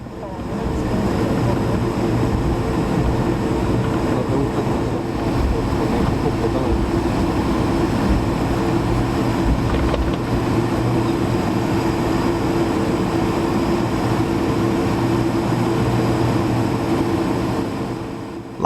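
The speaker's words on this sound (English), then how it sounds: "We're taxiing to runway 23 for departure" An Air Canada Airbus A220-300 taxis toward the runway for departure, a steady broadband engine rumble and cabin hum holding evenly throughout with no pauses.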